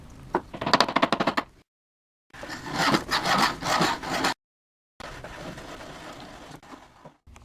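Fine rasping saw-like strokes of a thread-cutting tool working a wooden nut, three bursts of rapid back-and-forth passes separated by short silences, close and moderately loud.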